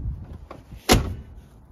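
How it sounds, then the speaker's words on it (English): Door of a 1974 Mercury Marquis Brougham swinging shut, a single solid thump close by after faint rustling, followed by a short fading decay. "Doors just closed so nicely."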